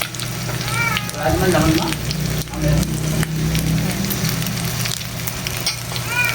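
Leftover cooking oil sizzles steadily in a pan with a soft continuous crackle for a Batangas-style sinugaok lunch, close and fairly loud, with faint background voices in the kitchen.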